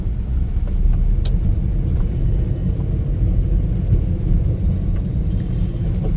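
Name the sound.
car driving on a highway at night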